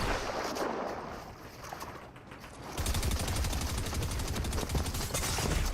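Rapid SMG gunfire rattles in Slurp Rush, a dense, loud stream of shots that bursts in after a quieter stretch and keeps firing to the end.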